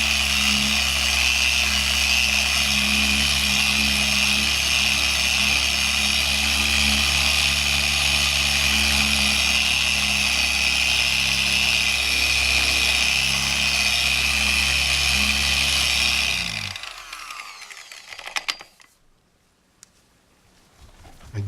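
A power buffer polishes cured clear coat over carbon fiber Bimota motorcycle parts: a loud, steady, close machine whine that runs unbroken for about sixteen seconds, then winds down and stops, leaving near silence.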